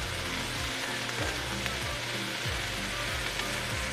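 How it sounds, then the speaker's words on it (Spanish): Fresh spinach sizzles loudly in a hot frying pan, a steady crackling fry with soft rhythmic scraping and stirring strokes repeating every half second or so, close up with no talking. "Revolvemos"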